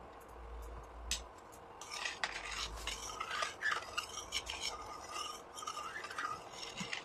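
Cardamom powder being stirred into a cooking pot, heard as soft, quiet scraping and light utensil clinks repeating close by, with a faint low hum underneath and no speech.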